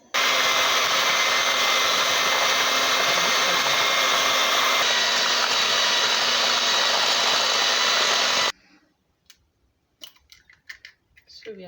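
Electric hand mixer beating butter and sugar, a steady loud motor whir running unbroken for about eight seconds before cutting off abruptly, followed by faint scattered clinks and bumps.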